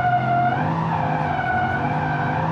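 A Lamborghini Huracan drifts with loud, close tire squeal over a steady, rising engine drone that runs without a break.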